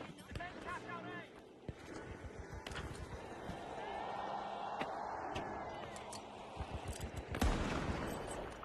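Bursts of gunfire from the shooter game The Finals pop in quick clusters across the clip, fairly faint and mixed with running and game noise while a player talks throughout.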